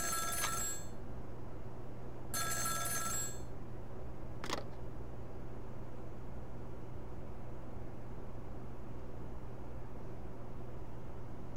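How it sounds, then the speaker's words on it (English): A telephone rings in the video game Ghost Trick: Phantom Detective, two electronic ring bursts in quick succession followed by a brief click over a constant low hum, with no talking. "Phone call?"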